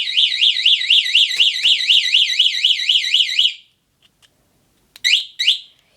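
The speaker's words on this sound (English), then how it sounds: "Yeah, that's just the alarm going off." A shrill, warbling electronic alarm on a farm quad bike sounds loudly in rapid repeating sweeps for several seconds, stops, then gives two short bursts after a pause.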